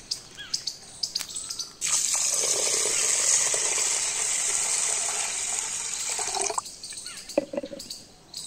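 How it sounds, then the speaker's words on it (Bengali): Rice being rinsed in clean water, a steady rushing pour of water and swishing for about five seconds, with smaller splashes and clinks before and after. "এবার পরিষ্কার জল দিয়ে চালটা 2-3 বার ধুয়ে নেব, যতক্ষণ না চালের থেকে সমস্ত নোংরাটা বেরিয়ে যায়।"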